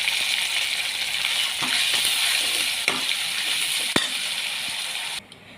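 Ginger garlic paste, coriander and mutton masala fry in a pan for toor dal mutton sambar, with a continuous bright sizzle, a few soft stirs and a sharp metallic clink near the end before it cuts off.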